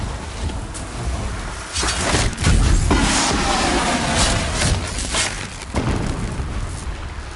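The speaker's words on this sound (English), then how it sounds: "Explosions in the distance" Deep booms of explosions rumble in the distance, several muffled blasts rolling one after another over a windy background, with no voices.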